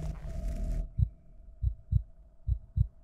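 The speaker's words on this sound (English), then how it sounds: "why did the heartbeat keep going up?" A heartbeat in the horror game The Night That Speaks thumps in close, muffled double beats, loud and alone over a faint hum after a brief burst of noise at the start.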